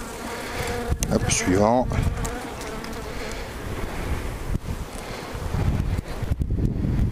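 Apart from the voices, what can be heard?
honeybees buzzing at an open beehive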